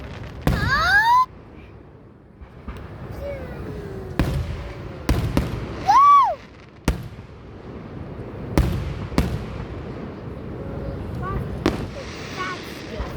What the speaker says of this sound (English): bro, the explosions are scaring me